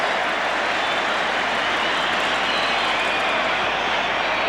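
A large football crowd at an England v Northern Ireland match roars with broad, steady cheering, a dense wash of noise that stays loud throughout.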